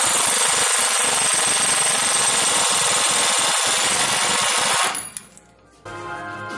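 An impact wrench spins a 27 millimeter nut off the rear wheel of a Yamaha Kodiak or Grizzly ATV, a loud continuous rattling whir that cuts off abruptly near the end, leaving quieter background hum.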